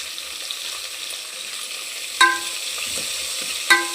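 Drumstick kurma base sautéing with salt and turmeric, a soft steady sizzle broken by two sharp utensil knocks against the pan, close with no talk.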